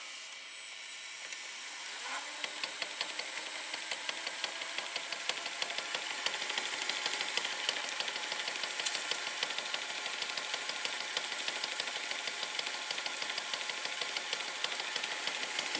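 Sanyo VHR-9401 VCR fast-forwarding, its gears turning: a quiet, steady mechanical whir with a rapid train of small ticks and clicks that starts softly and settles into an even running rhythm.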